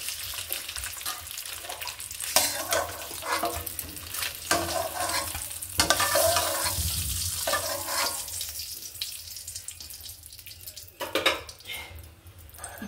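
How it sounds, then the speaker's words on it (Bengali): A fried egg is lifted from a pan of hot oil while stirring continues, giving a steady sizzle with scraping and clinking of a utensil against the pan in a home kitchen. "এখন ডিমটা উঠিয়ে ফেলবো।"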